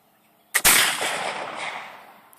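A single loud, close gunshot from a black-powder flintlock firearm, a sharp blast that rolls into a long, slowly fading boom with no voices.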